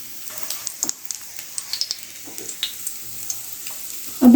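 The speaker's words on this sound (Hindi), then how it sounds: "हम ऑयल डालेंगे।" Oil crackles and sizzles on a hot griddle while corn roti cooks, a steady pan hiss with scattered sharp pops and a louder burst at the very end.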